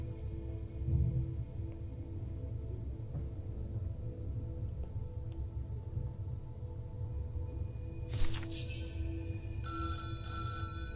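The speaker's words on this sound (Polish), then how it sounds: "No to odbierzmy ten telefon." A telephone rings inside the video game Syberia The World Before: two short bright bursts of ringing, close and clear, set against a low steady ambient hum.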